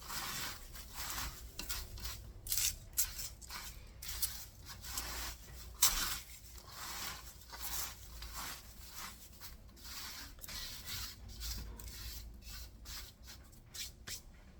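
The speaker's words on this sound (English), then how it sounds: "I'm gonna just crumble it as much as possible, and then I'm gonna sift it." Dried celeriac greens are crumbled by hand, giving quiet crisp crackling and rustling in repeated bursts, close and faint, with no talk.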